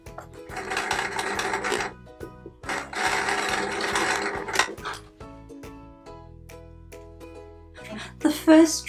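A sewing machine stitching fabric triangles onto a center diamond for a patchwork quilt, running in two loud rattling bursts, then pausing amid quieter handling noises and a brief final whir.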